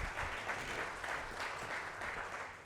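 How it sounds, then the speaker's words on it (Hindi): An audience at an awards-night open mic event applauds steadily, a dense wash of many hands clapping at moderate distance for the whole stretch, without voices on top. "यहाँ से वहाँ तक ज़ोरदार एक बार तालियां बजा दें"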